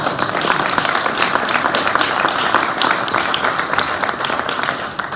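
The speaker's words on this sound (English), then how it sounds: "Give him an applause, please." An audience at a Marcus Garvey Day celebration claps steadily, a dense, continuous round of applause filling the room for several seconds.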